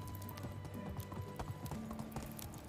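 Horse hooves clip-clop at a steady walking pace in the medieval game Medieval Dynasty, close and fairly quiet, with soft tonal game ambience running beneath the footfalls.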